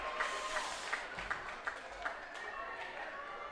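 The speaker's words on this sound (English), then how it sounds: "the crowd goes berserk" Crowd noise from a women's state football match between NSW/ACT and Queensland after a NSW/ACT score, a steady roar of distant spectators with regular sharp peaks, likely cheering and shouting under commentary.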